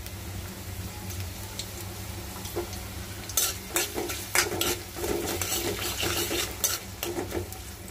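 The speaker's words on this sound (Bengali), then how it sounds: "এখন আমি পেঁয়াজ দিয়ে দিব।" Onions dropped into hot oil in a wok, a quiet background that erupts into loud, close crackling and sizzling with scraping stirs and clinks of utensils against the pan.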